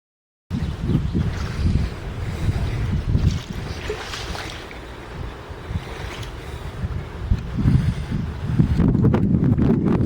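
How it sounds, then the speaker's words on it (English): Gusty wind roars across the microphone outdoors, rising and falling in loud rumbling bursts with a brief calmer lull midway. "I don't know if you can hear me over the wind."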